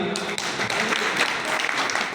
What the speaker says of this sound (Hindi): इन सभी भाइयों के लिए जोरदार तालियां